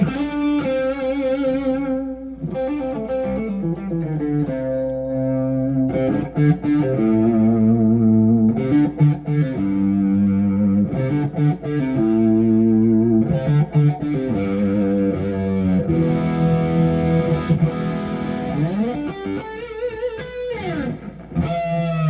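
A Schecter Sunset Triad electric guitar plays a melodic line of sustained notes and chords through effects with distortion, chorus and reverb, loud and up close with no talking.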